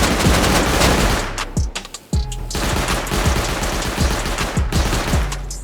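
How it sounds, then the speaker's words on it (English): Rapid automatic gunfire from an auto turret during a base raid in a video game: loud, dense bursts of shots that break off briefly around the middle, then resume steadily. "the auto turret's going to take him out"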